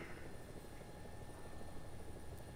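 An EC-665 Tiger helicopter in the video game War Thunder, a steady whirring rotor and engine drone that stays constant and fairly close with no breaks.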